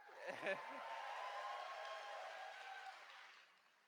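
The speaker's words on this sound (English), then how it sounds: "A round of applause, please." An audience at the AmeCon 2018 anime convention opening ceremony claps in a sustained round of applause, heard from a distance and softly, fading away at the end after a brief voice at the start.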